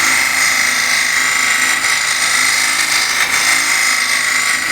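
Scraper cutting spinning wood on a lathe: a loud, continuous whirring drone with a gritty, steady scraping texture close up.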